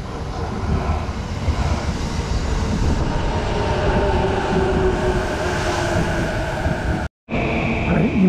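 A Yamanote Line train at the platform of Nishi-Nippori station in Tokyo, heard as a loud, steady rumble and hum of the train with a high whine, continuous and close, with a brief cut near the end and no talk.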